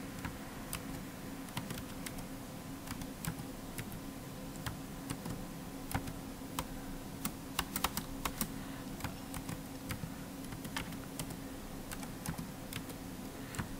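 Quiet, close clicking of keys on a computer keyboard, typed in irregular bursts and single taps over a faint steady background hum.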